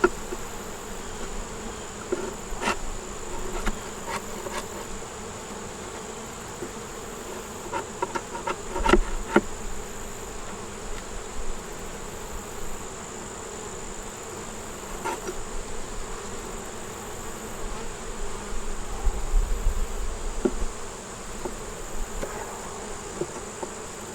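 Honey bees buzz steadily around an open hive during a hive inspection, a continuous close drone with a few louder passes of individual bees near the hive.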